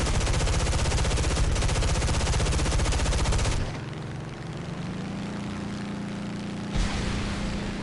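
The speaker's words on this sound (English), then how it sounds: "love the sound of these new 50 cals though" Rapid .50 cal machine guns of an F8F Bearcat fighter fire in a dense, continuous burst in a flight combat game, then cut off, leaving a steady aircraft engine drone for several seconds.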